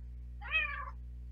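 A single cat meow, a short rising and falling cry of under half a second, clear and moderately close over a steady low background hum, with no one talking.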